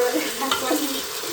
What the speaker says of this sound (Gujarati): તો આમાં ફેરાવા રાખવાની તો ડુંગળી પાકી જાય.